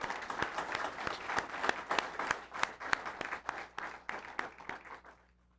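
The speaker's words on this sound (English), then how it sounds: "if we can give a round of applause to Karina for her dedication to our city" Applause at a city council meeting honoring Karina, a city employee, for her dedication: sustained clapping from a modest seated crowd, steady and fairly close, tapering off at the end.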